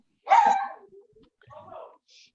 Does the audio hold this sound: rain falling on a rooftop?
no